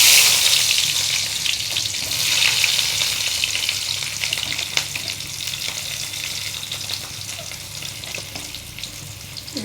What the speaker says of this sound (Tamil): இப்போ இதை வதக்க போகிறேன் பாருங்கள்.